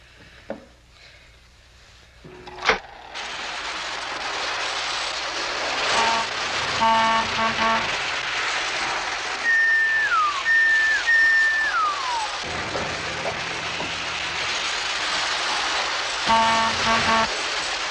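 Small postwar Lionel toy trains hum and whir along the track under a steady motor buzz, with a few short whistle toots rising and falling midway.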